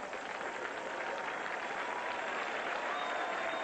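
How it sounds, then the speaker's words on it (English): A home crowd at a 1994 Missouri Tigers college football game applauds after the final play, a steady, even wash of clapping from a large stadium audience heard from a distance. "the Missouri crowd on its feet and giving the hometown Tigers a nice round of applause"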